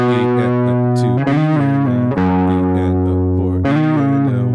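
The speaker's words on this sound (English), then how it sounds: "I'm going to throw on some distortion, and I'll play it a bit faster" An electric guitar with heavy distortion plays a song at a quicker pace, with sustained, buzzing chords changing every second or so, loud and alone.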